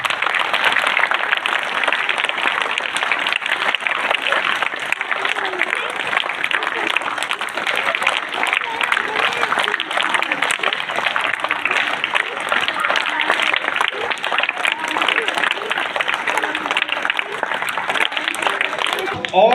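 Audience applause at a school gathering, a continuous wash of dense clapping that holds at an even, loud level throughout with a crowd murmur mixed in.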